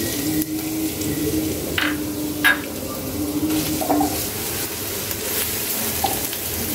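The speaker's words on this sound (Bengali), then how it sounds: "পেঁয়াজগুলো এখানে গোল্ডেন কালার হওয়া পর্যন্ত ভেজে নিব।" Chopped onions fry in hot mustard oil with bay leaf, dried chili and a piece of cinnamon, giving a continuous close sizzle with a few faint clinks from the pan.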